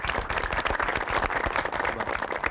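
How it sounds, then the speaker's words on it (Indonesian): Close, dense applause from a group cheering the team Rimba, with rapid overlapping claps that stay loud and continuous throughout. "untuk grup Rimba kita beri tepuk tangan"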